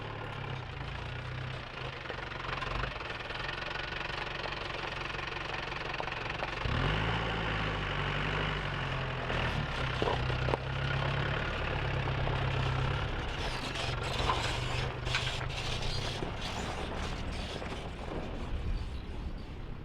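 An Isuzu KB 4x4 bakkie idles and revs at low speed as it stops and reverses around a corner and down a slope on an off-road obstacle course, a steady mid-pitched engine drone with clanks and shifts in tone.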